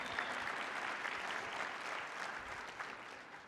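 Audience applauding for farm kids at a comedy show, a dense, steady wash of many hands clapping throughout, fairly even in loudness and tapering slightly at the end.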